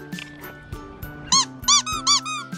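A squeaky dog toy ball, squeezed in a quick run of four or five shrill, close squeaks, with faint handling noise before them.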